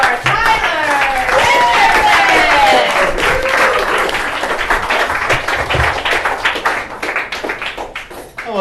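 A comedy club crowd claps for a comedian taking the stage, loud applause mixed with cheering and whooping voices that gradually thins into scattered claps.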